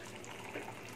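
Water steadily gushing and splashing as it drains from boiled rice through a strainer, a continuous close, fairly soft rushing sound.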